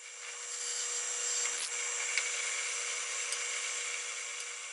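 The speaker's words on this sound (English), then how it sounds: "Now I drill a hole through each of the handle pieces." A small power drill boring holes through pieces of antler for a hunting knife handle, a steady high whine with faint scraping bites, fairly close and alone.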